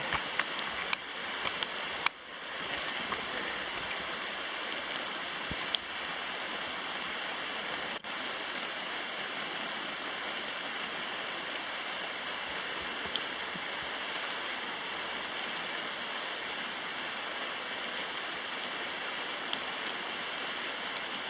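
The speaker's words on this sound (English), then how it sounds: "Let's give you one last look at the river in the rain here." Steady, rushing water of a brook with rain falling over it, a constant full wash of sound with no voices.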